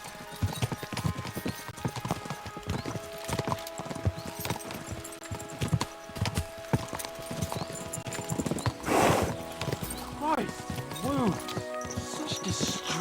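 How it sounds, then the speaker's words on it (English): Horse hooves clatter rapidly in a galloping rhythm in the video game Kingdom Come: Deliverance 2, with a horse whinnying and voices speaking over the hoofbeats and a musical backdrop. "We should spur the horses on."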